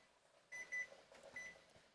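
A kitchen timer set while pressure canning black beans gives a few short electronic beeps, two close together then one more, faint against a low background hum.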